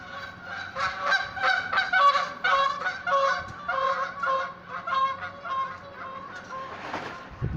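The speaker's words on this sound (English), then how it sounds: "You hear the gooses?" A flock of geese honks continuously and loudly at close range by a boat on an Easter morning, overlapping calls forming a dense chorus with no talk.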